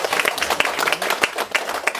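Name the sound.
audience applause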